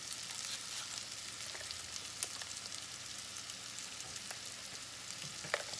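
A browned pasta base seasoned with sazon sizzles quietly in a pan, a faint even frying hiss with a few soft clicks from occasional stirring.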